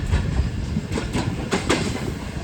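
Rumble and rhythmic wheel clatter of the Awam Express, a passenger train, running along the rail line, steady and fairly loud with a few sharper clacks.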